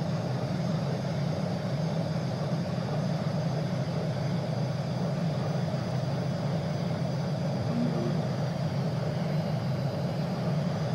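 A fighter plane's engine in the video game Breed drones steadily and evenly throughout, a constant broadband roar with a low hum underneath, continuous and unbroken with no voices over it.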